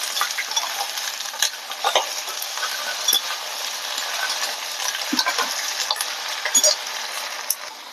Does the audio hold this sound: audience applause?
no